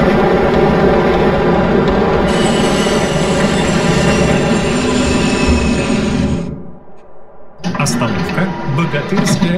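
Tram on route 64 running through the city of Nevsky in the MTA Province game, with a steady rolling rumble and rail noise, wheel squeal, a brief quieter gap near the end, then the motion resumes loudly.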